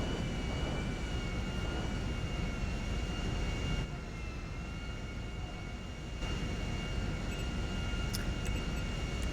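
A huge airplane in GTA 5 drones with a steady jet engine roar, continuous and moderately loud, dipping briefly in the middle before returning, with no talk over it.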